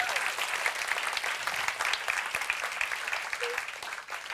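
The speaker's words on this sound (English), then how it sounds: "Can you please give another round of applause for Raymond, Victor?" Audience round of applause at a church gathering, an even, steady wash of clapping from a crowd heard at moderate volume throughout, softening slightly at the end.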